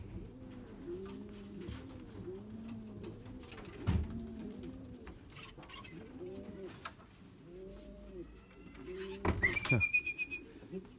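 Racing pigeons coo steadily in repeated soft, throaty rolls close by, with a few faint chirps and a brief whistle near the end.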